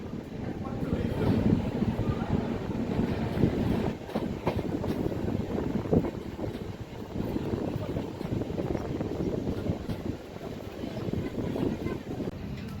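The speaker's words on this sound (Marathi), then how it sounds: "6:32 जेऊर रेल्वे स्टेशनवरून आपली ट्रेन निघालेली आहे." An express train pulls away from Jeur railway station, a steady broadband rumble of wheels and carriage noise throughout with faint clickety-clack, heard from on board.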